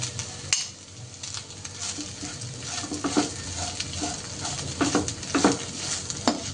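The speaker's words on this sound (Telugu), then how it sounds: "రైస్ అంతా మిక్స్ చేసుకున్నామండి." Basmati rice with beetroot being mixed in a frying pan, a soft continuous sizzle broken by repeated spoon scrapes and clinks against the pan, close and moderately loud, no speech.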